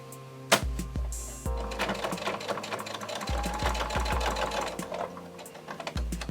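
A sewing machine stitches a messenger bag in short runs of rapid mechanical whirring, broken by a few sharp clicks and thumps of the needle and foot, close and clear with no speech.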